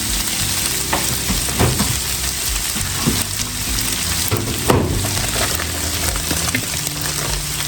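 Sausage sizzles in a pan with cooked-down vegetables, a loud continuous frying hiss broken by occasional scraping stirs, close up with no voices.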